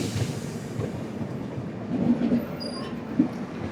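The Kerala Express rolls along rails in North India, heard from inside as a steady low rumble and rattle of the carriage with faint rhythmic wheel clatter and a brief high squeal.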